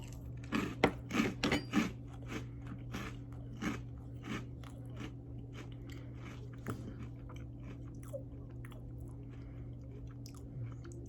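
Cap'n Crunch cereal mixed with a chocolate caramel snack, chewed close up: a quick burst of loud crunchy bites early on, then quieter, scattered crunches and soft chewing over a low steady hum.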